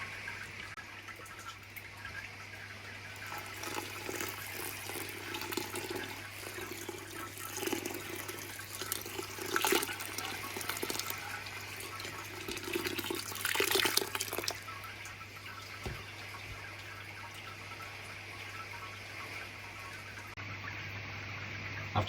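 Water poured over malt grains during the sparge of a home beer brew in a 35-litre Brewzilla, a steady, close, running wash of liquid with surging pours lasting the whole stretch, no talk.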